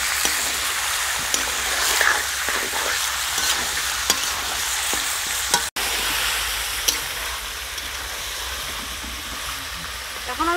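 Mutton fried with salt and turmeric hisses and sizzles loudly and steadily in a pan. Occasional scrapes and clicks of a spatula break through, and there is one brief dropout midway.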